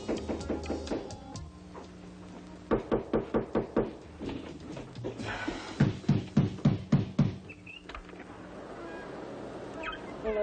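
Repeated knocking at a door comes in several bursts of quick, sharp raps, fairly loud and close, separated by short pauses over a background with music.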